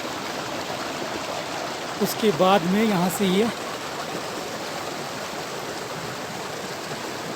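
A small clear mountain stream near Pindari glacier flows in a steady broadband rush close by, and someone speaks briefly over it partway through.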